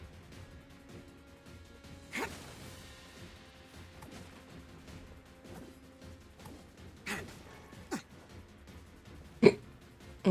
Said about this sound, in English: Oh no, I got the hiccups.